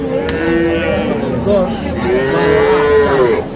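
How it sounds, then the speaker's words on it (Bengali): Calves moo repeatedly at a cattle market, several drawn-out bellows close by, rising and falling over a busy background murmur. "এ পাশে দুইটা পালন উপযোগী ছোট্ট সার বাছুর আছে"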